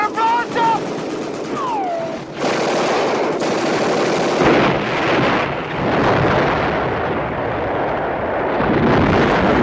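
Automatic gunfire rattles loudly in long sustained bursts during a TV action episode, layered with roaring, rumbling noise, while voices yell over it.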